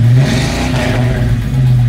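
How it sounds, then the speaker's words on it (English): Engines roar and rev loud and steady through the whole stretch, a sustained mid-pitched drone as a Lamborghini Huracan Super Trofeo and a Dodge Viper RT10 launch at the start of a charity diecast race event. "The engines are revving, and they're off."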